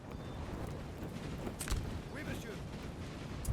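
Sniper gunfire in the Napoleon Total War 3 battle at Leipzig: a few sharp musket cracks stand out over a constant background of distant battle noise, while a voice talks throughout.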